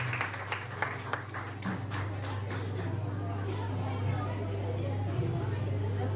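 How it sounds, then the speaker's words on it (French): A school spelling-contest audience claps for the finalists, a steady wash of applause with scattered sharper claps and background chatter, moderately loud and sustained throughout. "est-ce qu'on peut applaudir pour elle? Pour eux, pour moi."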